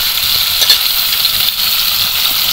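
Parshe fish frying in hot oil until golden red, a steady broadband sizzle holding at even loudness throughout with a few faint pops and crackles, no voices.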